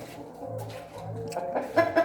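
Blue Brahma and bantam hens cluck softly in a backyard coop, short low calls scattered over quiet rustling, with a couple of sharper clucks near the end.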